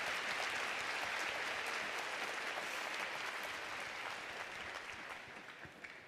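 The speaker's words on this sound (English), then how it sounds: "Join me in a round of applause and appreciation for today's event organizers" Audience at a university social work winter commencement ceremony applauding, a dense steady wash of many hands clapping throughout that slowly fades toward the end.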